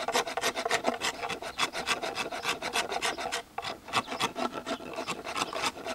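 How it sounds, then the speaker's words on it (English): A hand rasp works over a wooden sculpture piece to smooth it, giving a fast run of close, rhythmic scraping strokes with a brief pause midway, with no other sound. "So I can still do some rasping here to make it smooth"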